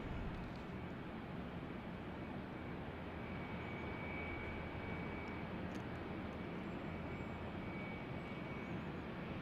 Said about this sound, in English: I see the Cessna 750X right over here, Jevin. Landing on runway 35.